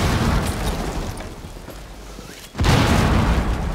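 Breaching charge explosion in Rainbow Six Siege, a sudden loud blast after a quieter noisy stretch, followed by sustained rumbling debris noise that stays loud to the end.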